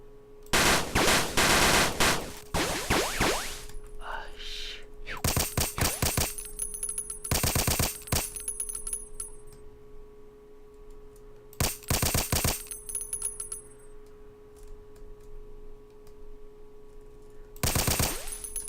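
Gunfire in the video game X Operations: several loud bursts of rapid automatic shots, separated by quieter stretches with a steady background hum, the last burst at the very end.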